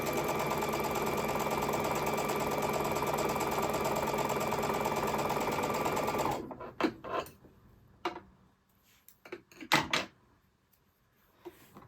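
A sewing machine pieces quilt triangles in a steady, rapid stitching hum for several seconds, then stops, followed by a few soft handling clunks and rustles close by.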